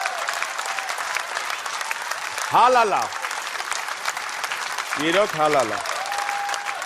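An audience at a stage event breaks into two short bursts of applause, each clapping swell rising and fading, while a presenter speaks over and between them.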